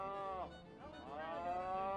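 Cattle on a working ranch mooing, with a drawn-out harmonic low call that dips, then rises again into a second long moo, moderately close and heard alone without talk.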